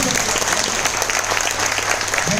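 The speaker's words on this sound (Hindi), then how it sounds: "एक जोरदार क्लैपिंग के साथ थैंक" Loud, steady audience applause at a motivational talk, dense clapping filling the whole stretch without a break.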